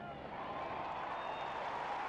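A football crowd roars after a goal at a 1995 West Coast versus St Kilda match, a broad, steady wash of cheering heard from a distance with no break.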